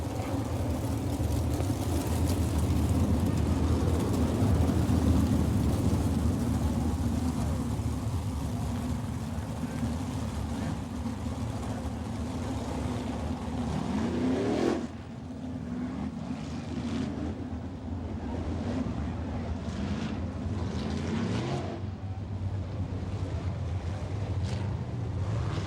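Sprint cars on the final lap at Port Royal, Pennsylvania, make a continuous loud roar of engines, with a car sweeping past midway and a public address voice over the race noise.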